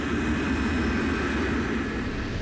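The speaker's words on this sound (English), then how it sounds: "Instead, Captain Van Zanten accelerates the KLM jumbo down the runway." KLM Boeing 747 jumbo jet on a runway takeoff roll, a steady broad jet-engine roar held at moderate level without a break.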